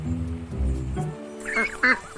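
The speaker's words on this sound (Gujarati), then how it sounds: "અને પછી બતકોનું જૂથ આવ્યું." A few nasal duck quacks ring out near the end, after a low murmuring rumble, close and moderately loud.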